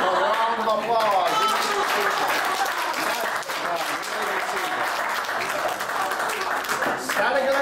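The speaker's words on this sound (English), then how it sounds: "Give a round of applause." A round of applause from an audience at a Benjamin Franklin character presentation, steady dense clapping throughout with voices and cheering mixed in over it.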